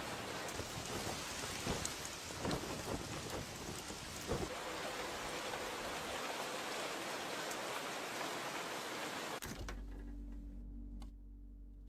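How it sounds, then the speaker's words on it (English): Heavy steady rain pours down with a few sharp thunder cracks scattered through it, ending in a sudden cut to a low rumbling drone. "The rain continued for 2 full days, until dawn, the day of the festival."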